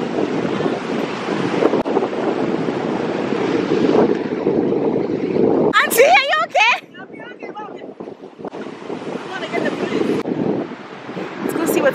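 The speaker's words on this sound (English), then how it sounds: "It's splashing waves." Ocean waves splashing on a windy Galveston shore, a loud rushing roar buffeted by microphone wind, with a brief quieter gap and people talking nearby.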